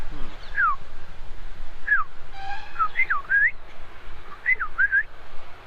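Someone whistles an imitation of an oriole call, a few clear sliding notes in uneven little phrases, with soft background noise between them.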